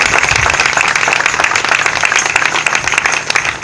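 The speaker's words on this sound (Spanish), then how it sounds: "Y le damos una ofrenda de aplauso al Señor Jesucristo." A church congregation at an anniversary service bursts into sustained applause, a loud, continuous wash of clapping throughout with no break.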